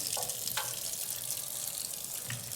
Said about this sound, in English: I'll just wash off these with fresh water, guys, so there's no more soapy water on them